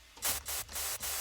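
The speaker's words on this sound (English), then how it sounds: "remove even more white noise" White noise generated by a Serum software synthesizer from an init noise preset, a short hissing burst pulsing in three or four even swells with brief dips between them, fairly quiet.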